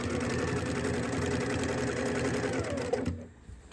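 A sewing machine runs a steady, fast stitch along a chalk-marked line on a square of fabric for a zippered bag, close and continuous before stopping abruptly near the end.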